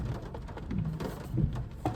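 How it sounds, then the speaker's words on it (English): Heavy rain pours down outdoors on a stormy morning, a dense continuous hiss with scattered splats and low rumbling, moderately loud and steady throughout. "it is pouring down rain"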